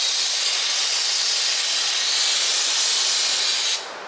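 A steady, loud hiss of aerosol cleaner sprays continuously onto a rear differential on a cheap drift car, then cuts off abruptly near the end, leaving a quieter background.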